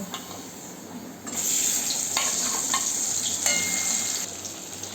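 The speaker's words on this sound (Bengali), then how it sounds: "এটা গরম হয়ে গেছে, এর মধ্যে আমি পনিরগুলোকে ভেজে নেব" Paneer cubes frying in hot oil in a heated karahi for a cauliflower-paneer dish, a steady loud sizzle with brief stirring scrapes, no talking.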